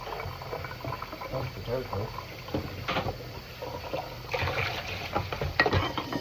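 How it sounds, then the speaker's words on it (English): A cooking pot is rinsed by filling it with water and sloshing it around, giving irregular splashing and gurgling bursts close by, with a person talking over it. "rinse the pot by filling up with water and going like this"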